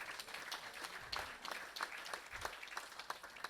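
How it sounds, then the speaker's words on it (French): An audience at the closing session of a geomatics conference claps together, a moderately loud spread of hand claps with a few sharper individual hits standing out, continuous throughout. "Vous pouvez applaudir, hein, vous avez le droit quand même, hein."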